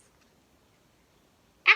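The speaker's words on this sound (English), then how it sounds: "Actually, a cat and kittens." A cat lets out one short meow at the very end, after near silence.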